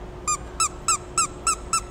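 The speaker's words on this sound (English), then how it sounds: "I found this cute little blue seahorse which was made from recycled plastic water bottles and it squeaked" Blue toy seahorse made from recycled plastic water bottles squeaks six times in a steady, evenly spaced rhythm, each squeak short, bright and close, with a faint steady hum in the background.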